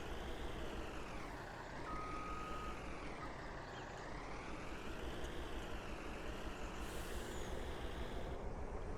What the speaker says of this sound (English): Move the dump truck.